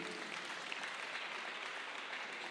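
Audience applause at a Kiambu political gathering, a dense, steady wash of clapping that holds at an even level for the whole stretch, fairly close, with no voices over it.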